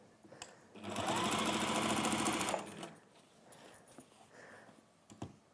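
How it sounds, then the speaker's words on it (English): A sewing machine stitches the short ends of velvet fabric in one fast, steady burst of about two seconds, with soft handling clicks and rustles before and after. "I'm going to sew the short ends"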